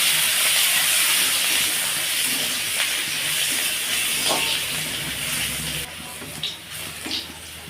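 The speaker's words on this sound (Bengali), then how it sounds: "সেটাকে এখন ভালোভাবে লাল করে ভেজে নেব" A whole head of garlic cloves fries in hot oil until browned, giving a steady, loud broadband sizzle and hiss that continues without pause, with a few faint clinks near the end.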